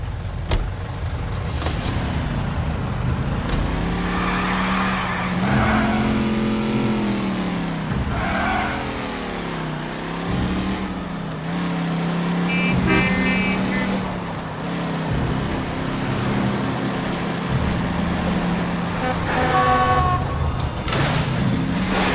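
A car in the L.A. Noire video game drives along with a steady engine hum that rises and falls as it revs, loud and continuous throughout.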